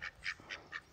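Ducks quack four times in a quick, evenly spaced series, fairly faint and slightly distant, with no talking.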